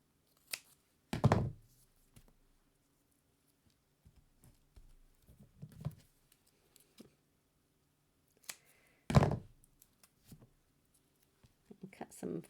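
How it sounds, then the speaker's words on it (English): Scissors snip thin strips of paper for a farm-themed card, with a few distinct cutting bursts separated by quiet pauses and faint handling rustle, close and fairly soft. "Cut some thin strips just to go here on his feet."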